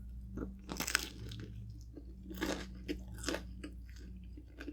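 Crunchy bites and chewing of a Little Caesars bacon edge pizza crust dipped in crazy sauce, close and fairly quiet, several crisp crunches spread over a few seconds.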